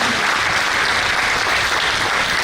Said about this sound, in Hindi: एक बार तालियों की करताल ध्वनि से इन सभी का अभिनंदन करें।